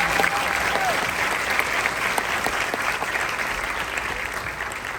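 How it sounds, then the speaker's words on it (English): Continuous applause from a large crowd at a high school graduation commencement ceremony, dense and steady, loud and filling the hall for the whole stretch without speech. "Let's give them a round of applause."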